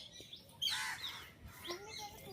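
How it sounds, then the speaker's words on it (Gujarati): Morning birdsong at Gandhi Ashram with sparrows, parrots and peacocks around: a few sharp chirps and whistled calls stand out over a soft outdoor background, fairly close and fading between calls. "તમે સાંભળી રહ્યા છો કે આ ચકલીઓના, પોપટના, મોરના બધાના અવાજ આવતા હશે."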